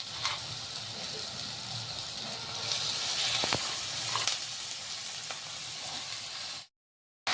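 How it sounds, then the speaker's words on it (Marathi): Fenugreek leaves go into a peanut mixture frying in a pan, setting off a steady, close sizzle and hiss with occasional stirring scrapes, before the sound cuts off abruptly near the end. "आता यामध्ये मेथीची भाजी टाकायची आपल्याला।"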